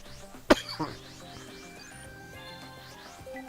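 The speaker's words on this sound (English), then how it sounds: "trying to hold that cough" A single sharp cough bursts out near the start, followed by a softer second catch, over quiet background music.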